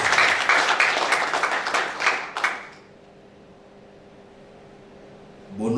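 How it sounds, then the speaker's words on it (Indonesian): Church congregation clapping in praise of God, a loud burst of many hands that cuts off after about three seconds, leaving a quiet room with a low hum before a soft rustle returns. "Boleh tepuk tangan yang terbaik buat Tuhan"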